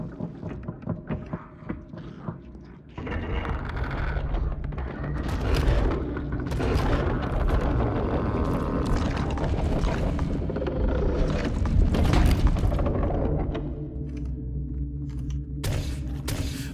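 An enemy fires repeatedly in the horror game Scorn: heavy booming shots and rumbling impacts roll continuously over a dense low drone, loud and close, with no talking.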